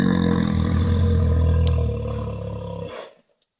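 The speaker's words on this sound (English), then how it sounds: "They played a recording of a bear growling." A deep, rumbling growl from a recording of a bear, played back, loud and sustained for a few seconds before trailing off into silence.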